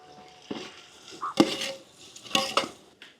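Tomatoes, mint and coriander sautéing in a pan for chicken biryani, with scattered clanks and scrapes of a spoon stirring against the metal and a faint sizzle, close and fairly quiet.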